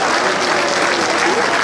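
Applause from a hall audience at a national Moluccan elders' day event, honouring the organisers. It is a dense, steady wash of clapping from many hands, loud and continuous throughout with no voices standing out.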